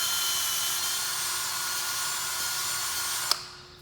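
A power drill runs continuously with a high steady whine as it bores a hole in a beaver-chewed stick, then stops abruptly near the end.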